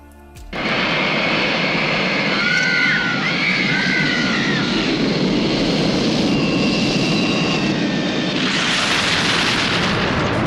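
From the 1978 film The Medusa Touch, an airplane roars toward a building, a sudden loud engine rush that holds steady for about ten seconds with whining tones and a rising burst near the end, no talk.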